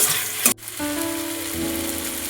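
Onion petals sautéing with chilli powder and spices in a pan, a close sizzle that flares briefly then settles into a steady fry with faint scraping, no voices.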